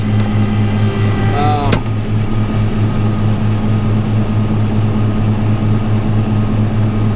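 A tractor engine runs at a steady idle, giving a constant low, even hum close by with one brief sharp click partway through.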